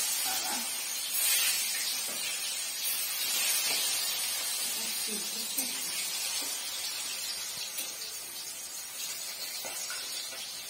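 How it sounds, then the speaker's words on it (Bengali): Raw green banana (kanchkola) slices fry in a pan for a Neel Puja meal, giving off a steady, moderately quiet sizzling hiss that runs unbroken throughout. "এবার কাঁচকলা ভাজা হচ্ছে।"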